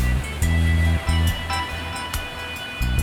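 Surf rolls in at Coral Sands Beach on Kwajalein, a steady rushing wash with a low rumbling undertone that swells and dips in uneven pulses, with no talking over it.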